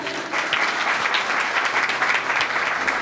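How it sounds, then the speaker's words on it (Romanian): Guests at a christening celebration applaud the parents, a full, continuous round of clapping from many people nearby, steady and unbroken from start to finish. "am vrea tare, tare aplauze pentru părinți"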